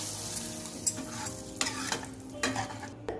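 A tempered dal is stirred with mustard oil in a pan, a soft sizzle under a few distinct scraping strokes and light clinks of the spoon, close but fairly quiet, with no voices.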